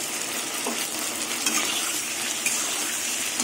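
Pointed gourd (potol) frying with a splash of water in a covered pan gives a steady, close sizzle, with faint crackles and a couple of light clinks.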